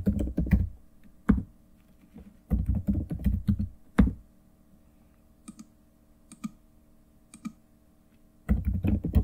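A password is typed on a computer keyboard in bursts of rapid key clicks separated by quiet pauses and a few isolated taps, close and fairly soft, with no voices.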